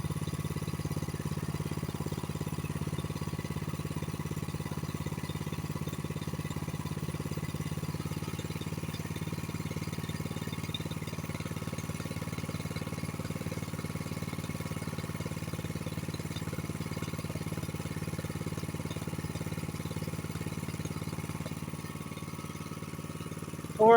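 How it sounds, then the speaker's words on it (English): A Honda snowblower engine idling near its set RPM, a steady, even mid-pitched drone that holds constant for the whole stretch. "That's almost the proper idle RPM."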